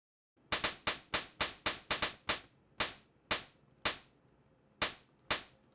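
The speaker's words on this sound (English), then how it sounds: "See, now it sounds like a hi-hat." Synthesized hi-hat built in the Squeak music program: about fourteen crisp, bright ticks that decay quickly, tapped out in an uneven rhythmic pattern with short gaps, close and alone.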